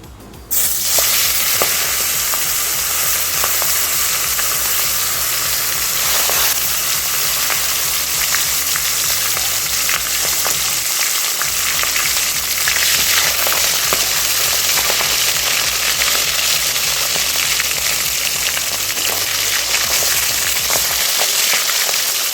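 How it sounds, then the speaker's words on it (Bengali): Fish heads fry in hot oil, a loud, continuous crackling sizzle close by that holds steady for over twenty seconds, with occasional spattering pops and no talk. "তেলটা গরম হয়ে গেছে, এবার আমরা মাছের মাথাগুলো ভেজে নেব।"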